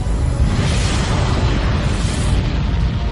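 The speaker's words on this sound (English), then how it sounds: "These are the largest explosions in the known universe." A deep, sustained rumbling explosion sound effect roars steadily, heavy in low bass with a broad noisy wash above.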